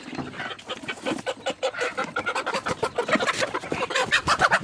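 A hen and a batch of 17 to 18 chicks cluck and cheep in rapid, dense bursts close by, a busy rhythmic chatter with no talk.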